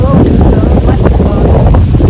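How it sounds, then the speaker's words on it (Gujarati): A cool breeze blows through a hillside temple garden, buffeting the microphone with a loud, continuous low rumble that swells and dips slightly across the whole stretch. "ઠંડો એકદમ મજાનો પવન આવે"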